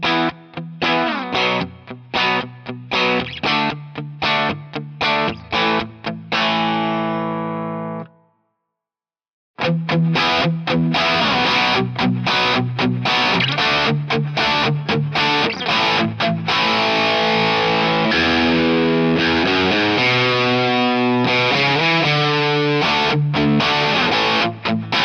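An electric guitar played through an LSL Instruments Klon-style overdrive pedal, loud and continuous with strummed chords and riffs, broken by a brief silent gap before playing resumes.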